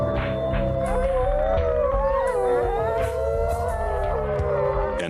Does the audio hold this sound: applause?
no